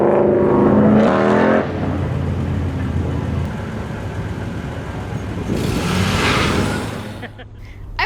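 A car on an autocross run with a newly fitted sway bar accelerates and revs, its engine note rising and falling between gear changes, with rushing air and tyre noise and a brief surge near the end.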